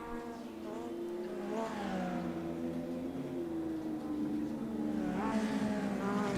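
Game-simulated V-Race 3 race car with a broken rear end limping around a historic 1974 Spielberg circuit, its engine note droning steadily with rising and falling pitch, continuous and moderately loud throughout.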